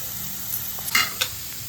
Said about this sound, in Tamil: மேஷ் பண்ண உருளைக்கிழங்கையும் அதில் போட்டு கிளறத்துக்கு போட்டுக்கிட்டேன்.